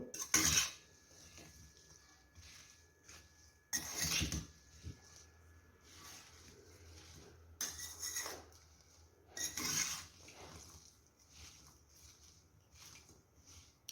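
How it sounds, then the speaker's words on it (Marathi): Green chillies for pickle are mixed with ground fenugreek, mustard and cumin powder, with a few loud bursts of rough scraping and rubbing against the dish separated by quiet gaps. "वाटून घेतलेलं मेथी मोहरी आणि जिरेची पावडर सर्व मिक्स करून घेऊ"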